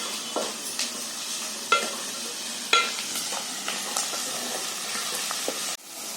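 Chopped onion and green chilies fry in a pan with a steady, fairly quiet sizzle. Several sharp scraping stirs of a spoon stand out, and a final clatter comes near the end.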